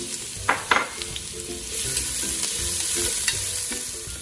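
About a cup of ginger fries in around two tablespoons of hot oil, a continuous close sizzle with a few sharp spatters and stirring clatter early on, no voices.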